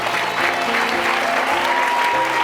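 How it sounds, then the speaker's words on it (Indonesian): An audience on a TV variety show claps loudly and continuously to welcome a guest's mother, with a sustained musical tone underneath the clapping. "Tepuk tangan buat mamanya Ferry"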